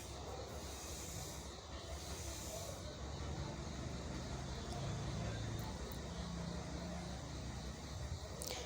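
Small onions, garlic and ginger sauté in a hot pan, giving a steady, dense sizzle that carries evenly throughout at moderate level, with no talking.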